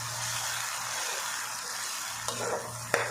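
Garlic tadka for haleem sizzling steadily in a hot pan, a continuous hiss of frying with a low hum beneath and a couple of brief clinks from stirring.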